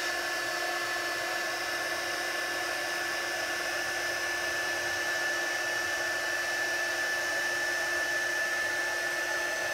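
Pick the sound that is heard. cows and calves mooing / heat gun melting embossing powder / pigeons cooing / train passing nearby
heat gun melting embossing powder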